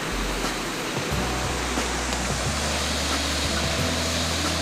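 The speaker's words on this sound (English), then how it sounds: "So this is the waterfall." A Kentucky waterfall pours in a steady, broadband roar of rushing water that holds level from start to finish, with low rumbling underneath and no voices.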